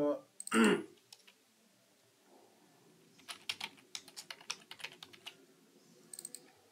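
Computer keyboard typing comes in a quick run of close, light key clicks after a brief voice and a pause, with a few more taps at the end.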